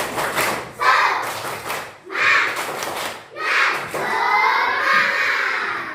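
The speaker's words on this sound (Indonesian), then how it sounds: "Tepuk semangat." Classroom children chant a rhythmic clapping cheer in bursts, shouting together with claps and thumps between phrases, loud and close.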